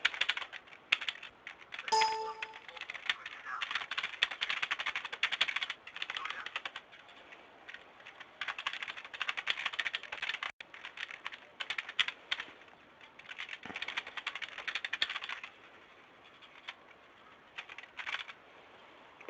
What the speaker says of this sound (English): Apologies for the amazingly loud keyboard.